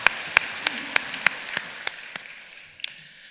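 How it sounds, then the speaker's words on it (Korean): A small church congregation gives a few slow, spaced claps that fade out over about three seconds in a quiet room. "우리 하나님께 영광의 박수를 돌리겠습니다."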